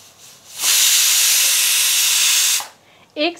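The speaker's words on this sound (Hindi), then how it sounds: "गैस का फ्लेम हम मीडियम रख के सिर्फ 1 सीटी आने देंगे।" A loud, steady burst of hissing steam from a pressure cooker whistle over a medium gas flame while cooking mutton, lasting about two seconds before cutting off, followed by a short squeal.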